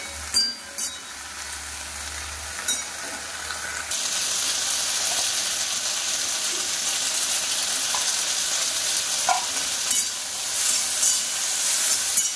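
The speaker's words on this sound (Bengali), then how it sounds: "তো চলো বেগুন আর ভেন্ডি একটুখানি লবণ দিয়ে ভেজে নিয়ে আসছি" Eggplant and okra fry with a little salt in a hot pan. The food gives a faint crackle at first, then a loud steady hiss takes over from about four seconds and continues without a break.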